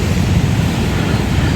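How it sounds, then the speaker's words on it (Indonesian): Ocean waves washing onto the beach at Pulau Manuk in the Sawarna area of Lebak, Banten, a steady broadband rush of surf with some wind, continuous and fairly loud throughout. "kita lihat lagi ombaknya"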